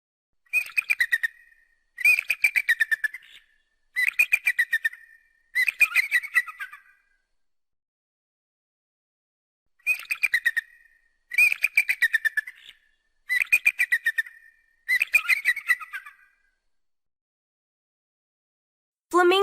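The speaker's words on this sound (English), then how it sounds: "Eagle." Eagle calls: two series of four shrill, high chirping bursts each, loud and close, with silence in between.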